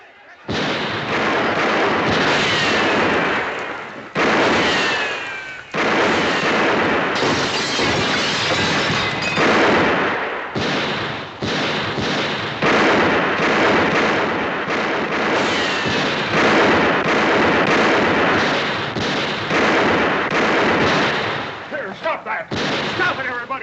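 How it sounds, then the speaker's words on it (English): Gunshots are fired over the heads of approaching riders in a 1960 Western television episode, a long barrage of loud sharp cracks in rapid, irregular bursts, close and dense, with brief gaps between volleys. "Let's put a few shots over their heads."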